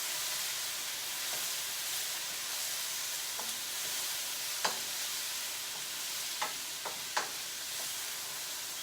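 Broccoli and carrots sizzle steadily in a vegan stir fry, a constant dense hiss with a few sharp pops and crackles scattered throughout, no voices.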